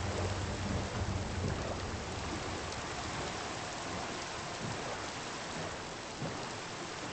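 Steady, heavy rain in the Minecraft video game, a dense, even hiss of falling drops with faint low rumbles underneath, continuous throughout.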